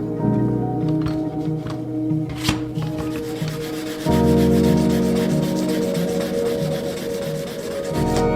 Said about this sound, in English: I then go through and finish grind the blade.